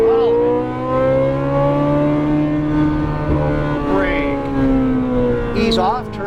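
Ferrari 458 Italia V8 wailing under throttle on a race track, a loud steady high-pitched engine tone with rising and falling pitch through gear changes and corners, heard from inside the car with a voice speaking over it.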